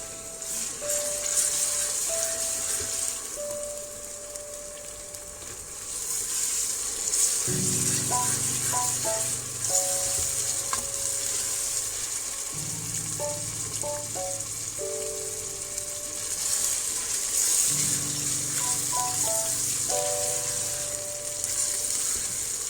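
Ginger, garlic and green chili paste frying in a pan for methi aloo, a steady hissing sizzle throughout, close and fairly loud, with occasional stirring and a soft melodic tone intermittently beneath.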